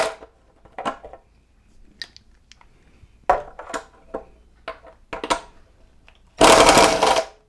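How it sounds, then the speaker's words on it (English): An impact driver backs out cap head screws on a motorcycle dash, giving a loud, dense burst of rattling hammering near the end, after scattered short clicks and handling knocks. "I'll reach from underneath and use my impact driver to remove them"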